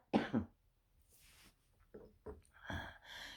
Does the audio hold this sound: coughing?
yes